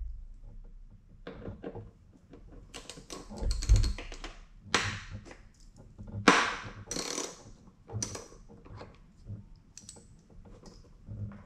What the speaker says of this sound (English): Next, we will be removing this bolt here.